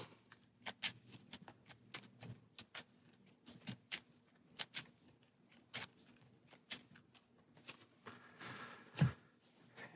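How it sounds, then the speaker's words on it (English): Marvel Champions encounter deck cards being shuffled, a series of soft, irregular clicks and riffles, faint and close, ending in a louder burst, with no talking. "And go ahead and shuffle."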